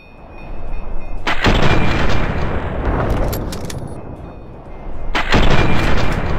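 Gunfire in the Fallout 3 video game: a loud, continuous barrage of shots filling most of the clip, with one pause and a fresh burst near the end.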